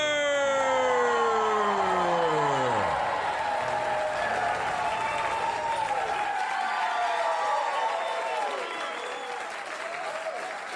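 Comedy club audience at Gotham Comedy Club cheering and applauding for host Larry Miller, a loud, sustained ovation over swooping electronic intro music that fades into continued clapping.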